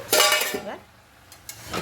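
A metal lid is lifted from a cooking pot and the contents are stirred, making a brief clank followed by scraping and light rattling of utensil against metal, close and moderately loud.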